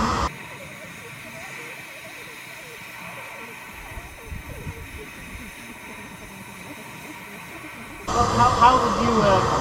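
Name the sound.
gas axe cutting torch hissing while heating a nut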